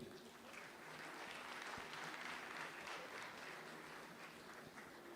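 A festival audience claps for a speaker called to the stage, a dense, even wash of applause held at a distance and fairly faint throughout.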